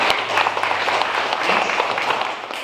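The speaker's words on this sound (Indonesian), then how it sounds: "Beri aplaus buat PTBes." An audience at an Eco Racing business seminar claps steadily in a dense, close wash of applause that stays even throughout.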